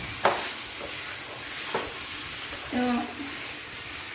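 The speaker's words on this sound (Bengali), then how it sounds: "ততক্ষণই মশলাটা কষাতে থাকবো যতক্ষণ না মশলা থেকে জল ছাড়ছে।" Tomato and masala for chicken kasha sizzle gently in a pan while a spoon scrapes and stirs a few times, close up, with a brief spoken word.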